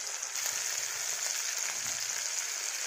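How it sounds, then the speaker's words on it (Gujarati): Chopped tomatoes cook in a pan for a Gujarati valor bean curry, giving a steady, close sizzle and fry hiss throughout with no talking. "પછી એમાં આપણે કાપેલ ટામેટા નાખીશું"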